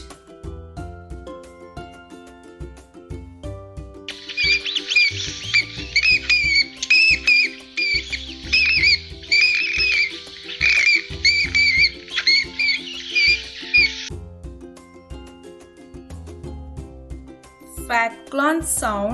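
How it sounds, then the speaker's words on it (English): A bat gives a dense, continuous stretch of high, rapid chittering squeaks lasting about ten seconds, set over steady background music. "Bats sounds screech."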